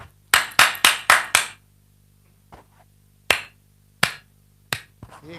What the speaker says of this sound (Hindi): अगर मैं इनकी जगह पे होता तो मैं ताली कैसे बजाता?